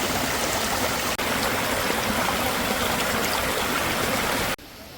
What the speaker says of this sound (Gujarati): ભાઈ ચીમર ધોધ જોરદાર લાગે છે ભાઈ, એક નંબર છે.